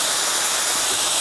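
A Bezzera Aria espresso machine's steam wand lets out a loud, continuous hiss of steam at close range, steady throughout without speech.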